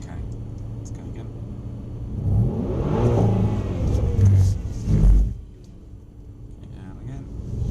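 A Mercedes-Benz car sliding through a drift on a driving track, its engine rising into a swelling roar that peaks and then drops away, with people talking over the run.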